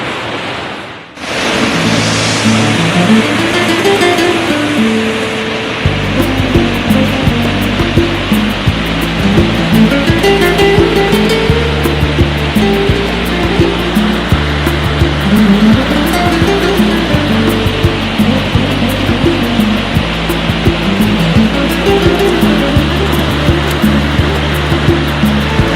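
Winter waterfall at the Zhane falls near Gelendzhik: a loud, steady rushing roar of falling water that fills the whole stretch without a break, with a low, uneven rumble running beneath it and no voices.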